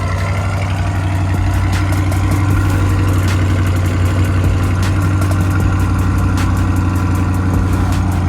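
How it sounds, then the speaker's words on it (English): A Chevrolet Corvette C8 with a track exhaust idles with a deep, steady rumble close by, a throaty exhaust note holding constant, with faint clicks and clatter around it. "Oh, he's putting on the track exhaust for us."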